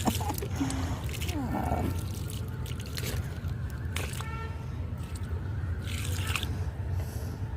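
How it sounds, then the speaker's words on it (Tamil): Water is sprinkled onto freshly planted mint in a garden, producing scattered drips, splashes and soft trickles over a constant low background. "நட்டுட்டு கொஞ்சம் தண்ணி தெளிச்சு"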